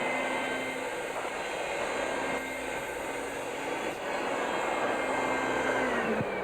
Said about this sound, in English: is a professional type carpet and upholstery cleaning machine